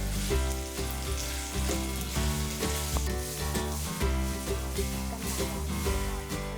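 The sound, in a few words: cooking oil sizzling on the stove for Hakka stir fry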